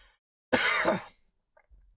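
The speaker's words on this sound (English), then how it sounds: "I don't know how long this one's going to be because of this cough" A single harsh, close cough bursts out loudly for about half a second, then fades into silence with a faint breathy sound afterward.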